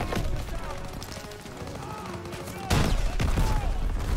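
Gunfire aimed at a tank in the video game Call of Duty WW2, a dense, continuous battle fusillade with loud shots and explosions throughout, swelling sharply near the end.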